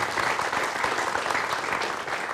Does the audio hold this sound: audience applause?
yes